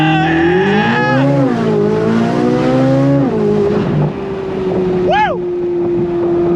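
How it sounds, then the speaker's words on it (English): A Chevrolet C8 Corvette Z06 engine revs hard on a brake-held launch, rising in pitch, holding a loud roar, then dropping back to a steady tone with a whooping cheer from a voice over it. "Left foot on the brake, right foot on throttle. On throttle, here we go!"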